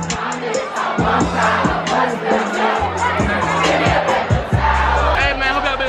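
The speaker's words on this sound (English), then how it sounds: "Look at the crowd, man." A dense crowd at a college party shouts and cheers, many loud overlapping voices chanting and hollering close by in a continuous roar.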